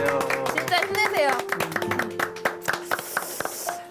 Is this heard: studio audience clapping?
yes